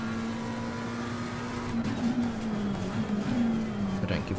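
Lamborghini race car engine in a racing simulator game, a sustained steady engine drone with slight pitch wavering as it accelerates, fairly loud with faint background noise.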